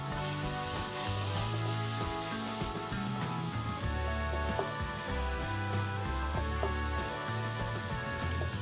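Grated tomato frying with onions in a pan, a steady, loud, close sizzle and hiss that runs unbroken through the whole stretch, with faint stirring beneath it.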